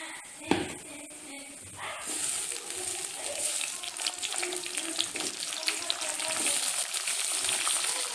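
Tomatoes drop into a pan of ginger and garlic frying in hot oil, a brief clunk giving way to a loud, steady sizzle that swells and crackles, with a voice faintly present.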